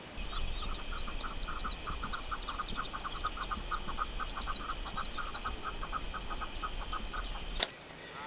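Steady chorus of repeated bird chirping calls outdoors in rural eastern Oregon over a constant low rumble, with a sharp click near the end.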